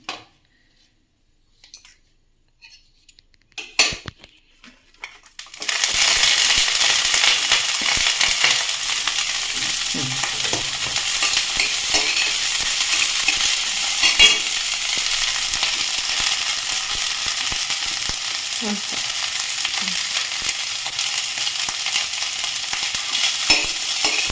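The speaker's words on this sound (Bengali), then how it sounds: "এইগুলোও ভেজে নেব একটু নুন দিয়ে" Small broccoli florets with salt hit a hot pan after a few light clinks, then a loud, steady sizzle of frying holds for the rest, with no voices.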